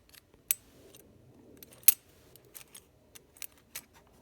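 A bunch of Allen keys jangles inside a tool box, with several sharp metallic clinks and rattles scattered irregularly, close and fairly quiet, and no one talking.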